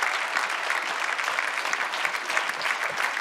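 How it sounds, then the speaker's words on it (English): An assembly hall fills with a steady roar of applause as hundreds of hands clap at once after a successful vote. The dense, even clapping holds at the same level the whole time, with no talk over it. "Applause."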